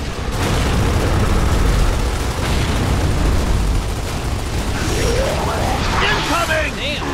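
A loud grenade explosion in the video game Gears of War 3 booms through dense gunfire and combat noise, with voices talking over the action.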